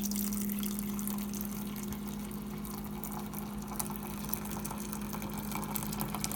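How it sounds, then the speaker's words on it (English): A Zojirushi hot water dispenser runs steadily, its pump humming continuously with a faint wash of water flowing underneath, a constant, even sound with no talking. "You fill it up and it heats the water. And then you just say unlock, dispense."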